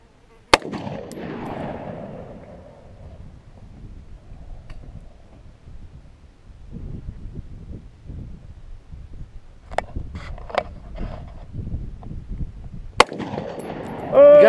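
Sig Sauer 516 Patrol rifle fired during an out-of-box ammo test outdoors: two sharp, loud shots, one near the start and one near the end, with low rumbling background noise between them.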